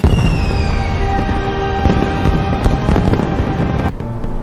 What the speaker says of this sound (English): How are the fireworks, Mother?